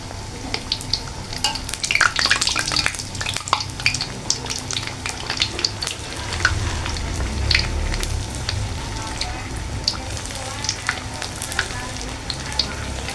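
Steady crackling sizzle of rengginang rice crackers frying in hot oil, with scattered sharp pops and occasional stirring scrapes, close and continuous.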